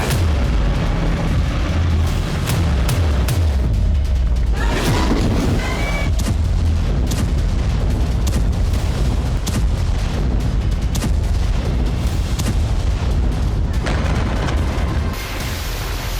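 Continuous heavy booming and blasts, like artillery and explosions, with sharp cracks scattered throughout; loud, dense and rumbling without pause.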